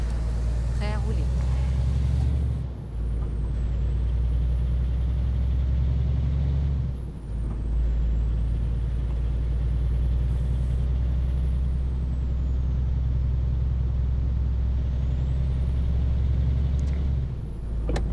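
A simulated truck in Euro Truck Simulator 2 drones with a steady low engine hum, broken twice by sharp hissing releases of its air brakes; a voice speaks faintly over it.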